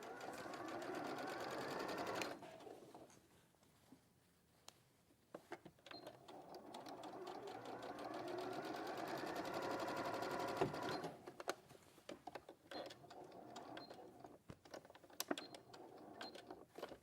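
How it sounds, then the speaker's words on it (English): A sewing machine runs in steady bursts, top stitching about 2 mm from a folded edge for bag making, loud and close with short pauses between runs. "I'm gonna top stitch very close."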